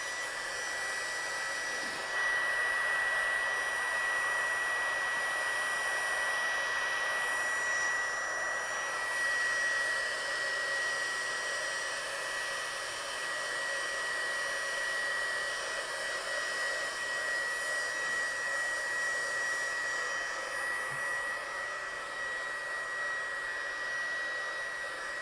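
Hair dryer blowing steadily and continuously at close range to dry a watercolour-painted card background, a loud, even whoosh with no talking.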